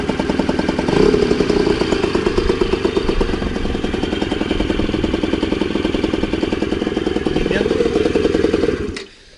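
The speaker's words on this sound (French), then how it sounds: "on va voir s'il démarre encore le scooter et surtout si on peut démarrer au kick maintenant" Scooter kick-started and running, a steady clattery engine idling close by for several seconds before cutting off abruptly at the end.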